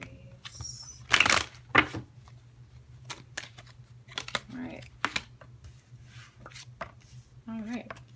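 Tarot cards are shuffled in quick bursts of riffling and soft slaps, with pauses between, close by over a low steady hum; a voice speaks intermittently.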